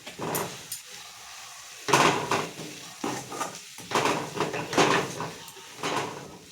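Egg puff masala with chilli powder, chopped coriander and mint is stirred in oil in a pan, giving bursts of scraping and clinking spoon strokes separated by short pauses, with a faint sizzle underneath.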